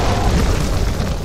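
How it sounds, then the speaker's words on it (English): In Fable II, an orbital cannon blast destroys a ship with a loud, dense, rumbling explosion that fills the whole short moment without pause. "That is literally an orbital fucking cannon. And I was right. Blew up the ship."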